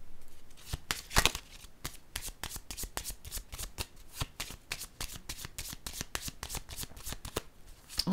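Oracle cards being shuffled by hand, a close, quick, continuous run of papery riffling and flicking, steady throughout with a slightly sharper burst near the start.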